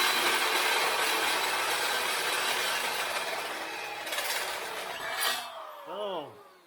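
A 1.5 inch hole saw cuts into a steel tube bumper for a Toyota Tacoma, a loud continuous rasping grind that fades and ends in a few brief whirring spin-downs.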